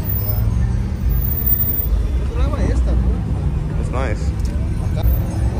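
A gasoline truck engine idles at a car meet, a low steady rumble running throughout, close and constant, while people talk briefly over it.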